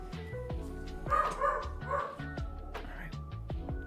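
A dog barks upstairs in a house, several moderately loud barks in a cluster over a quiet indoor background.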